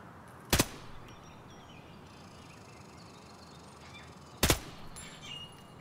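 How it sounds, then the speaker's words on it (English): Two sharp, loud gunshots about four seconds apart from the Project Quarantine demo shooter game, each cracking out alone over a steady low ambient hiss. "I shot him in the butt."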